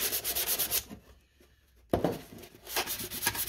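Hand sanding an old wooden box lightly, keeping some of its worn lettering, makes rhythmic rasping strokes up close, then pauses for about a second before the scraping resumes.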